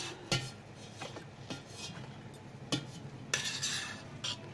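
Cooked pulao is scooped out of the inner pot of a Panasonic SR-WA10 automatic rice cooker into another vessel. Close scraping and clinking of a utensil against metal comes in several separate strikes, with quieter rustling in between and no talk.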